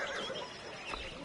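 A horse neighs in the medieval adventure game Pentiment, a fairly soft, brief whinny over a light ambient bed with no talking.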